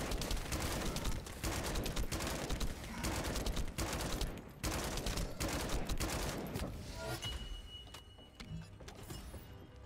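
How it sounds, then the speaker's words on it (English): Rapid bursts of gunfire from a shotgun in the video game The First Descendant during a boss fight, loud and dense with overlapping shots, then thinning out into quieter mechanical clicks near the end. "Time to do my shotgun on him."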